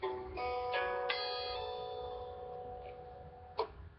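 A few plucked guitar notes ring out one after another and sustain, with a sharp hammer-on note near the end; no talking.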